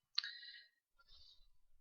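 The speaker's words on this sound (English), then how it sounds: "It has a noise device on it, so not only does it have the lights, but it clicks as well." A K2 meter's noise device sounding twice, first a sharp electronic chirp and then a softer, fainter one, quiet and isolated with no talking.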